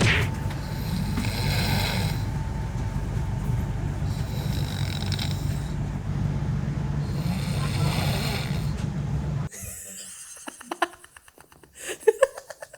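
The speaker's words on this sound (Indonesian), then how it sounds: "Ngoroknya aneh pak." A person snores inside a tent during a climb on Mount Raung, in long, steady, rasping breaths at a constant level that continue for several seconds. The snoring then stops and gives way to scattered rustling and clicks.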